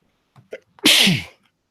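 A single sharp human sneeze, loud and close, preceded by a couple of small breathy intakes, during a live tabletop game session, then quiet.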